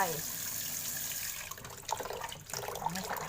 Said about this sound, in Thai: ล้างปลาดุกไม่ให้คาวนะจ๊ะ ใส่เกลือลงไป่